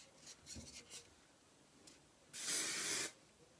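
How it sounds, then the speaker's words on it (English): A few short, faint spritzes open, then one longer, louder hiss of Guy Tang My Control hairspray lasting under a second, sprayed close by. "now I'm going to use the My Control hairspray"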